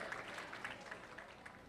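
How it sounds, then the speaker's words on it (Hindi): Audience applause welcoming a speaker onto a stage at a live event, a steady wash of clapping from a crowd that holds at an even level throughout, with no talking over it. "आपकी भरपूर तालियों में प्लीज़ वेलकम सलमान अतहर"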